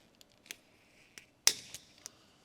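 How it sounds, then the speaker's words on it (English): A tubing cutter trims excess air line tubing for an air suspension controller kit on a 2014 Ford F-150 6.2L: a few light clicks, then one sharp snip with a brief ring, close and quiet. "Use the included tubing cutter to cut off any excess airline."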